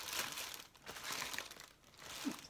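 Paper packing material rustles and crumples in a quiet room as a Sephora box is unpacked, giving soft, uneven crinkling bursts that rise and fall with no speech.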